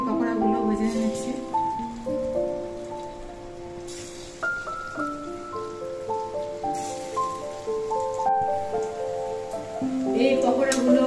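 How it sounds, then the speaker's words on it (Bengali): Pakoras deep-frying in hot oil give a steady crackling sizzle that runs throughout, partly under melodic background music. "এইভাবে আমি কিন্তু বাকি পকোড়াগুলো ভেজে নিচ্ছি"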